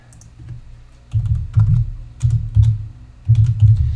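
Someone types on a computer keyboard in an office, with close, loud bursts of key clicks in uneven clusters separated by short pauses and no talking.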